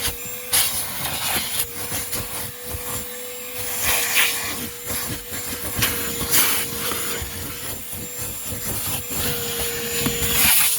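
A Ridgid dual 18-volt cordless vacuum, model HD0918, runs on carpet with a steady motor whine under rough, fluctuating scraping and suction noise as the nozzle drags back and forth, close and continuous throughout.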